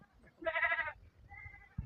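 A goat bleats once, a loud wavering call in the open, followed by a softer second bleat, with background noise from a farmyard.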